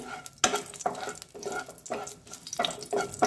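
Four dried red chillies fry in hot white oil in a pan, with soft sizzling broken by a steady rhythm of sharp stirring scrapes roughly every half second, close and clear.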